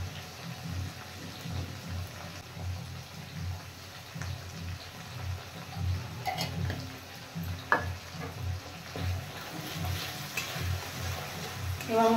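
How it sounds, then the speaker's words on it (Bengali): A spice paste of salt and turmeric sizzles steadily in a pan while being stirred and scraped. The frying sound is soft and continuous, with occasional brighter clicks from the utensil. "এবার মশলা একটু ভালো করে কষিয়ে নিই।"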